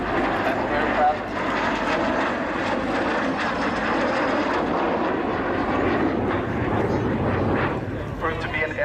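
A Lockheed T-33 Shooting Star jet at the Sanicole international airshow gives a loud, steady engine roar that fills the clip, with a voice speaking over it.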